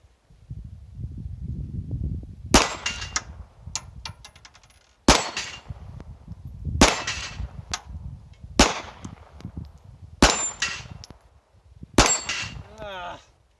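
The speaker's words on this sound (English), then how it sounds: "I'm going to see if I can get 6 plates down in the 6 shots that are in this magazine" Six shots from a Glock subcompact 9mm pistol ring off steel plates, each sharp crack followed by a bright metallic clang, spaced about two seconds apart at a slow, deliberate pace, loud and close.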